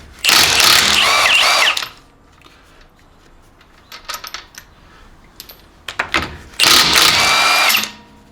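Battery impact tool buzzes in two long bursts, near and loud, removing small fasteners on a car being lowered, a Toyota GT4, with clicks and rattles of handling in between.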